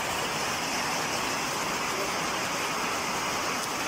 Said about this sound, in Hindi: ये शोर आपको आ रहा है बारिश की शोर